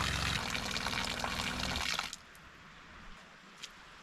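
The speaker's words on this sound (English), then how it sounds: "That's 100 degrees Celsius water right there." Hot water from an off-grid propane shower gushes in a loud, steady stream for about two seconds, then cuts off, leaving a few faint drips and clicks.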